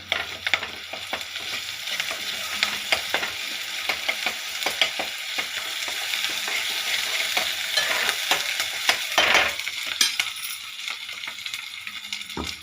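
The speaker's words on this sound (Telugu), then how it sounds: "ఇప్పుడు మనము అల్లం వెల్లుల్లి పేస్టు చూడండి కొంచెం వేస్తున్నా" Ginger-garlic paste sizzles and spits in a hot pan with curry leaves while a tomato and leafy greens curry is being made. The frying is a steady, close crackle, broken by clinks and scrapes of a stirring spoon against the metal.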